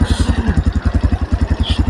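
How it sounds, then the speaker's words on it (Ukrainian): A Tekken Discovery 300 motorcycle, a 2025 model, revs with a loud, close, punchy exhaust, rapid rhythmic pulses thudding evenly through the short burst. "реально вихлоп так б'є, що тут кубів, мабуть, як 400-500"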